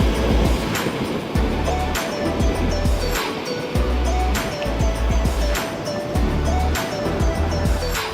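Waves break on the island shore of Chilika Lake, a loud rushing surf with repeated crashes every second or so, mixed with wind.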